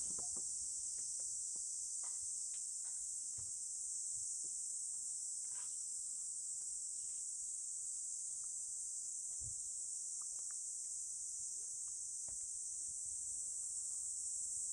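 Dense, continuous high-pitched chirping of crickets in Kanazawa, Japan, in the morning, steady and unbroken, with faint scattered clicks and rustles underneath.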